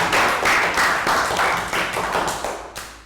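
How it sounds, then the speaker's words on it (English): A class of children in a Year 3 health education lesson gives a round of applause: steady, fairly loud clapping from a small group, close by, fading slightly toward the end. "Round of applause for last"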